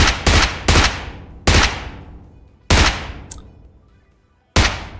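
Gunfire in the mobile shooter game PUBG Mobile: about six loud, sharp single shots at uneven intervals, each followed by a long fading echo, with no talk.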